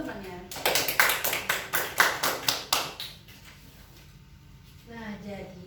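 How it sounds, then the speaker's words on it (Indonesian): A classroom of students claps for classmates during a microteaching lesson, with a burst of quick, fairly close rhythmic handclaps lasting about two and a half seconds that then fades into quiet room noise and a brief voice. "Untuk melengkapi jawaban dari Aldina, berikan tepuk tangan untuk teman-temannya."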